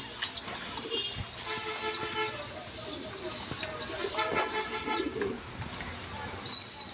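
Pet pigeons coo repeatedly in close, rhythmic bursts while eager to be fed, with rustling and a voice talking over them.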